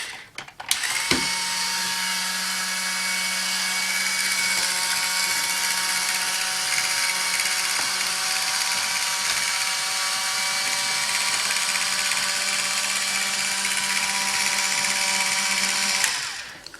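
A motorized MaxOhja toy mechanism runs in reverse for about fifteen seconds with a steady, whirring, ratcheting drone. It starts and stops abruptly and plays alone, with no voices.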